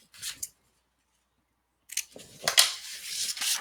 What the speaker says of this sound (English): So I'm going to cut that part out.